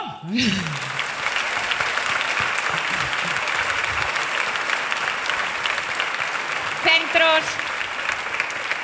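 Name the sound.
audience applause at concert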